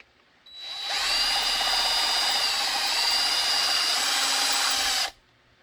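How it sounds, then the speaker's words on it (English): A 1/4 inch drill boring out a metal rivet, a loud high-pitched whine that starts abruptly, holds steady for about four seconds, then cuts off. "I'm going to drill on this side"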